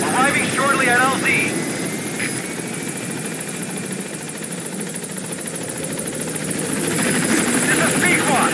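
A helicopter approaches a landing zone in Metal Gear Solid V, its steady rotor roar loud and continuous throughout, with brief radio-style voice chatter near the start.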